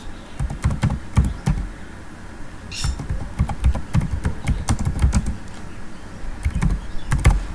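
Someone types an SQL query on a computer keyboard, a close, brisk run of uneven key clicks and taps, with no voices.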